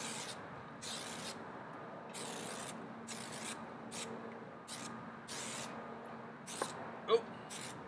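Refillable air-powered YouCAN spray can with its stock tip, spraying paint outdoors in a series of short hissing bursts, about eight in quick succession, with a faint knock near the end.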